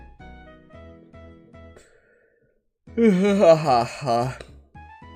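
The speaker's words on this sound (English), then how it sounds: "That was a yawn." A person lets out a long, drawn-out yawn with a rising and falling voiced groan, between quieter patches of background sound.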